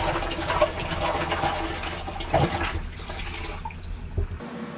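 Water drains and gurgles out of an aquarium bucket in a steady, close, moderately loud pour that thins out toward the end.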